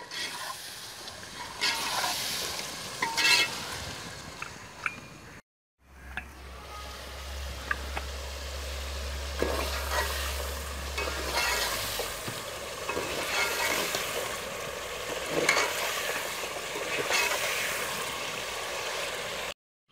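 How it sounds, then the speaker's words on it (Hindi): Chicken sizzles and fries in spiced masala in a pan, with steady stirring and scraping close by; a brief silent gap interrupts the cooking, and a low hum runs underneath for a stretch. "अब हम इसमें चिकन शामिल करेंगे। और इसको तकरीबन 5 मिनट तक भून लेंगे।"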